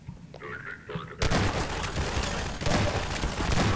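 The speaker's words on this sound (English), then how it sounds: "Who is shooting me from behind?" Enemy gunfire in Half-Life 2 erupts after a brief quieter moment with a voice, then continues as a loud, dense stream of close shots with a second surge near the end.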